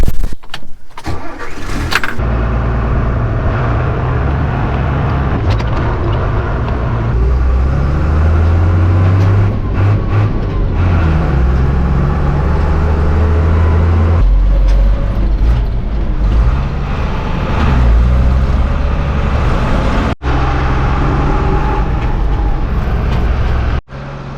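A New Holland Clayson 8080 combine harvester engine runs steadily and loudly throughout, its deep low rumble holding constant, with a brief starting clatter at the beginning.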